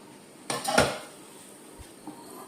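An egg omelette gets flipped in a pan: a scrape and clatter of a spatula against metal, then a soft slap, followed by faint quiet sizzling in a short, close burst.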